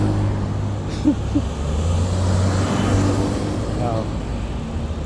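Rush hour road traffic rumbles steadily, with cars passing and a low engine drone throughout, heard from the roadside while riding.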